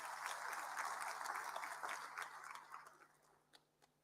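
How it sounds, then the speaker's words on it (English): Audience at a national senior certificate results release event gives a brief round of clapping that is fairly faint and distant, steady at first before fading into a few scattered claps. "Give her a big hand of applause,"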